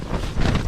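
Strong wind gusts buffet a microphone during heavy rain on an exposed cliff campsite, a loud low roaring rumble that swells and surges across the short moment.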